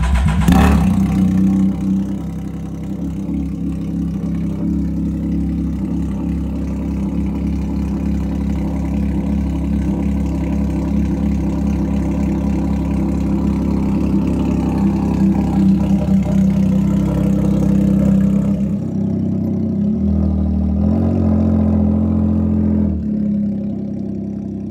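A Can-Am Ryker Rally with straight-piped dual exhaust idles and revs loudly up close, holding a sustained throbbing drone for most of the stretch before dropping back to a lower idle near the end.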